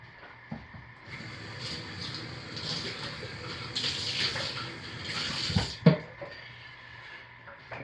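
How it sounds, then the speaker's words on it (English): Lye water poured carefully into soap-making oils at about 80 degrees Fahrenheit for cold process soap, a steady close trickling stream running for several seconds before a brief clunk near the end. "let's start by carefully pouring our lye water into our oils"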